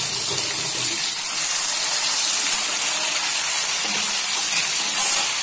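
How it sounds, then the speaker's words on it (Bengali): Tomatoes cut into two large pieces go into a hot pan, giving a loud, steady sizzle and hiss of frying that carries on throughout with no speech. "এবার টমেটো গুলো দিয়ে দিলাম।"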